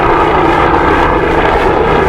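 Helicopters fly near Little Island in New York City, producing a loud, continuous rotor and engine roar that fills the whole stretch without any speech.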